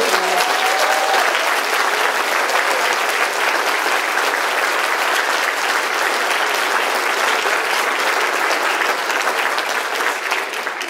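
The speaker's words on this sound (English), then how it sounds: "I would invite you to do that right now" A church congregation at a Lutheran Christmas program applauds the children who sang, sustained loud clapping filling the room for several seconds and tapering slightly near the end.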